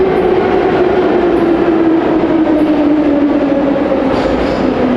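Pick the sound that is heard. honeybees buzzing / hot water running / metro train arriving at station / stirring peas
metro train arriving at station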